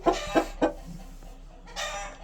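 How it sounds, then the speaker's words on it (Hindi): A rooster clucks close by in three quick loud bursts, then a short pause before a softer, drawn-out call trails off. "मुर्गा कड़कने लग गया।"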